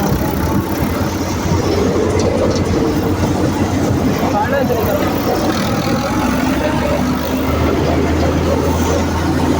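A tractor-driven thresher runs in a village, its loud, steady mechanical rumble and drone filling the air without a break.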